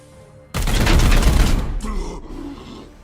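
Heavy burst of gunfire from the Warhammer 40,000 tactics video game Chaos Gate on legendary difficulty, a loud sustained volley with a second short blast near the end, under occasional talk.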